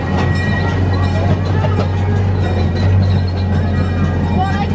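An amusement park train at Djurs Sommerland riding along its rails, a steady low rumble and rolling hum with faint clatter, close and continuous throughout.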